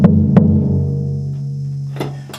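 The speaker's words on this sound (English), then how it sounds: "This drum has got what's called a napper head on it" Samba surdo drum with a napper head, vinyl over a plastic head, giving a softer tone: two quick muted strikes, then a long sustained low bass ring, followed by two lighter taps near the end.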